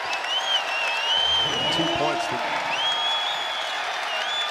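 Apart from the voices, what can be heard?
basketball crowd cheering and applauding at KFC Yum Center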